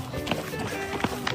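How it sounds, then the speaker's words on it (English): Cream sloshing and thumping inside bags carried by a runner, with rhythmic bursts in time with running footsteps, close and moderately loud, no talk. "That's the sound of butter churning."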